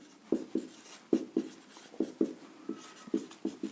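Chalk or marker strokes on a board during a physics lecture come as soft, evenly spaced taps and scrapes in pairs, close and fairly quiet, with no talking.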